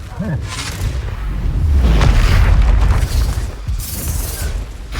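Confringo fire spell exploding in the Hogwarts Legacy video game, a loud sustained boom with rumbling blast and crackle, backed by game ambience and no speech.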